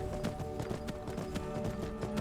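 Horse hooves clip-clop in a steady, rapid rhythm while riding in the game Skyrim, continuous and fairly close against a dense background of ambient game sound.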